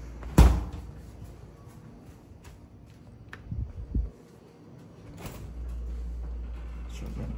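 A kitchen door or cupboard opens and closes while food is put away: a sharp knock near the start, scattered creaks and bumps in the middle, a firmer clunk near the end, then a low steady hum.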